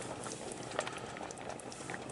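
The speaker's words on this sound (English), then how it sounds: "I'm going to let it simmer like that" Ratatouille simmering in a pot, a steady low bubbling and soft popping that runs throughout at a quiet level, with no voices.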